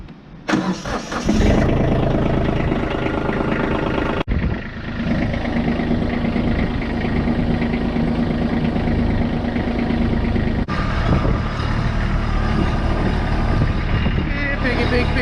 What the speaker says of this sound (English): Let's get in the tractor, get the rest of the bags up here.